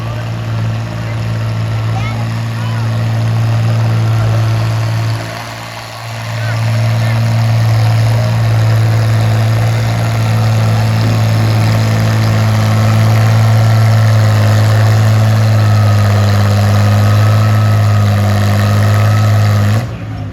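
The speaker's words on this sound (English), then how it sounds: "we'll see how the old Oliver 88 makes its way down the track" A vintage Oliver 88 tractor runs at a steady, loud idle throughout a county fair tractor pull, its low engine drone continuous with a brief dip midway.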